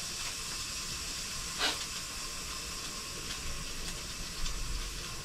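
A leaking pressure cooker lets out a continuous soft steam hiss, with one brief louder spurt and a small flare near the end, steady and close.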